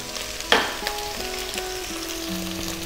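Garlic, star anise and onion frying in hot oil for a Filipino beef mami noodle soup, with a constant close sizzle, a sharp clack of a utensil early on and faint stirring after.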